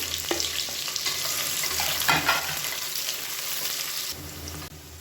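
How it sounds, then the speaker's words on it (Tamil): A handful of long-sliced big onions sautéed in hot oil in a pan sizzles steadily up close, with scraping stirs and clatter, then the frying softens briefly near the end. "நல்லா ஒரு கைப்பிடி அளவுக்கு பெரிய வெங்காயம் நீளமான சேர்த்து வதக்கி வச்சுக்கலாம்."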